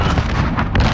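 A flashbang grenade bursts in Call of Duty: Modern Warfare, a loud, dense blast filling the whole moment with rumbling low end and a bright crackle, with no talk over it.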